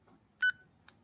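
A single short electronic beep from a Baofeng multipin radio, sharp and fairly close, followed by a faint brief blip in an otherwise quiet room.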